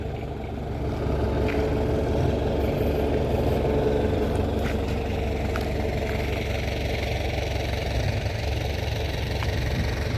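A tractor engine idles steadily and close by, a dense continuous low rumble with a faint knock that holds at one level throughout, with no voices.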